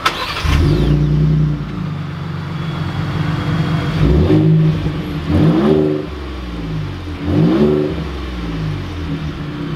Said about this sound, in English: let's take this 2020 Raptor finished in lead foot out to see how it drives